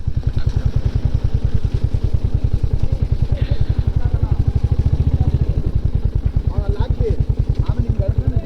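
KTM 390 Adventure single-cylinder motorcycle engine running near a mountain trek parking spot in the rain, a close, steady fast-pulsing thump with slight clatter, while someone talks over it.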